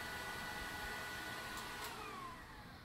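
A Bosch Unlimited cordless vacuum cleaner runs alone with a steady, even, airy whine and hum close by, easing slightly quieter toward the end.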